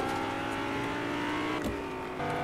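A car driving in Fortnite gives a steady, continuous engine drone with layered harmonic hum throughout, a brief rising rev or pass in the middle, and no voices over it.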